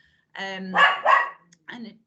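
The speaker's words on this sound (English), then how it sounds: "Shall I just let the dog out 1 second?" A dog barks during a video call, a few close, loud, harmonic yaps and a short whine-like bark in quick succession, heard alone against silence.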